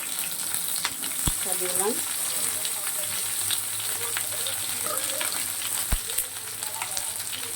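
Garlic cloves and sliced medium onions sizzle steadily in leftover paneer-frying oil, with occasional scrapes of stirring and a brief spoken phrase over the steady hiss.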